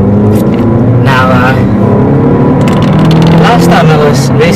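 A Renault Clio RS runs on a race track, its engine droning loudly and revving up and down with passing swooshes, while someone talks over it.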